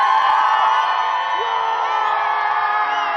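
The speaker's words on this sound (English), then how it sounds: "this crew behind me, they've committed to cheer more loudly than the BE4s" Crowd at a Blue Origin New Glenn rocket launch viewing, loud sustained cheering and whooping from many voices close by, continuous throughout with no gaps.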